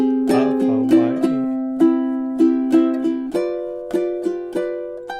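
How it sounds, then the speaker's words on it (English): Ukulele strumming the closing measures of a song, a clear close chord melody with rhythmic plucked strums ringing out over about five seconds, played solo without voice. "here's measures 29 through the end to get this strumming feel"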